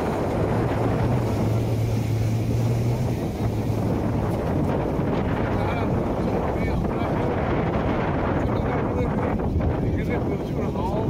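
Strong wind buffets a boat near Phi Phi Island, Phuket, Thailand, a constant loud roar against the microphone with a low engine-like drone, while a voice talks over it.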